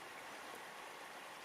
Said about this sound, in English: it's got a little brook running through it so you can hear the water